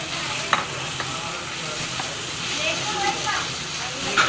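Kaleji (goat liver) frying on a hot tawa with crushed chili, stirred so a spatula scrapes the pan now and then over a steady, close sizzle.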